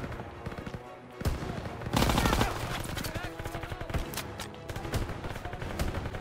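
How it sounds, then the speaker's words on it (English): Dense gunfire in the World War II shooter game Call of Duty: WWII, rapid overlapping bursts and single shots, loud and close, with a heavy burst of firing near the middle. "They're still shooting me in the face."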